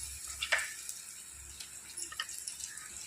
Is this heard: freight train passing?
no